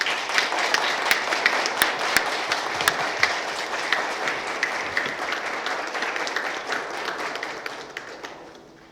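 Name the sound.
audience applause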